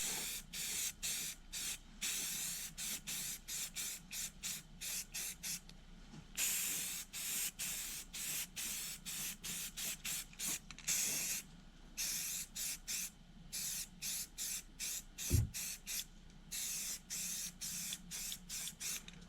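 Short, repeated bursts of aerosol primer hiss in an irregular rhythm onto a boat propeller, close and fairly quiet, with brief pauses and a single low thump between sprays.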